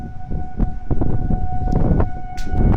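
Tornado warning sirens sound outdoors on a very windy day in Montebello, a steady wailing tone held throughout under heavy gusty wind noise.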